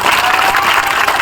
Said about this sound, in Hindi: अपने बदहाली की बात सुनकर ताली बजा रहे